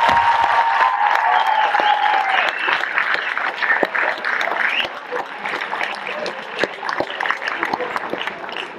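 An audience at an integration evening in Bottrop applauds steadily, a dense wash of clapping that holds loud and continuous from start to finish, with a brief whistle or cheer near the beginning.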